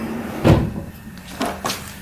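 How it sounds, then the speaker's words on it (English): A wooden drawer fitted with a newly screwed-on pull slides open and shut, giving a soft rumbling thump followed by two lighter knocks nearby against faint room noise. "a working drawer"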